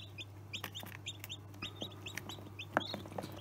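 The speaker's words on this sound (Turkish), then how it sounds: "Burada da H5 ve Bresti yavrularımız var." Newly hatched Bresse chicks in an incubator, a quick run of high, bright peeping chirps repeating irregularly over a steady low hum, fairly faint and close.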